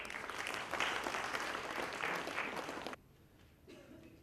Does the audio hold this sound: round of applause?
yes